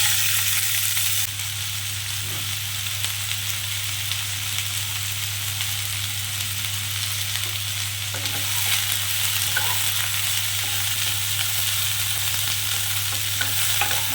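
Cauliflower pieces fry with turmeric and black cumin tempering in a hot wok, giving a steady, close sizzle with occasional stirring scrapes and a constant low hum underneath, no voices.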